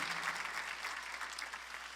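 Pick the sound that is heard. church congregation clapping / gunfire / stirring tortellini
church congregation clapping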